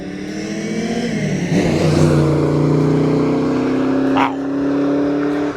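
A 1990 Ford Mustang LX drives off nearby, its engine rising in a loud, steady rumble as it pulls away, with a brief higher squeal partway through.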